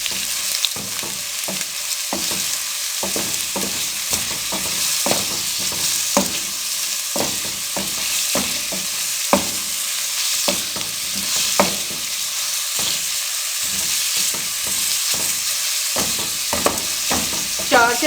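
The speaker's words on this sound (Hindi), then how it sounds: "लो फ्लेम पे प्याज़ों को फ्राई करें।" Onions fry in cooking oil over a low flame, a constant close sizzle broken by frequent scraping and stirring knocks of a spoon against the pan, with no voices.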